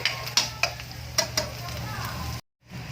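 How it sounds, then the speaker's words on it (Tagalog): Garlic sizzles steadily as it sautés in a pan for a dish of stir-fried cabbage, with several sharp stirring clinks of a utensil against the pan before a brief silence cuts in near the end. "Lalaglag ko ang ating bawang, ang garlic, pampabango ng ulam, ang bawang."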